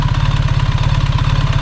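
A BMW R1300GS GS Trophy Edition motorcycle's opposed-cylinder boxer engine idling up close, a steady loud low-pitched throb with an even pulsing rhythm and no voices.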